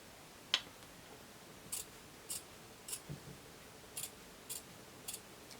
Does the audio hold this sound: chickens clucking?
no